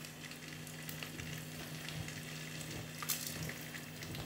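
Cumin and cardamom sizzle steadily in hot oil inside a clay pot, a soft, continuous crackle with faint stirring scrapes and no voices.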